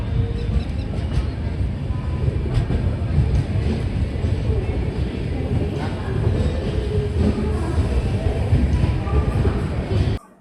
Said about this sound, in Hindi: हमारी ये Ajni AC super fast express पहुंच चुकी है महाराष्ट्र के अकोला जंक्शन रेलवे स्टेशन